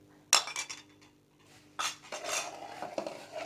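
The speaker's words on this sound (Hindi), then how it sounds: "हम इसे अच्छे से मिक्स कर लेंगे और इसे स्लो फ्लेम पे हम पकाएंगे।" Spoon scraping and clinking in a pot as milk and sugar are stirred into halwa, a few sharp metallic knocks followed by steady mixing scrapes, close and moderately loud with no talk.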